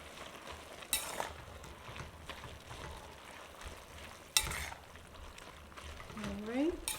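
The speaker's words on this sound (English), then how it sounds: "The green is being added. Give it a stir." Pak choi greens tossed in a hot pan for a shrimp dish, with a steady low sizzle and scraping stirs, a couple of sharp utensil clanks, and a brief voice or squeak near the end.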